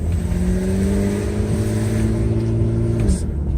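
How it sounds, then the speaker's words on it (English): A 1992 Mercedes 300CE coupe with a repaired ASR system accelerating under light throttle, a steady engine drone with its pitch rising as it revs, then dropping at a gear shift near the end, heard from inside the car. "I'm barely pressing on the gas pedal."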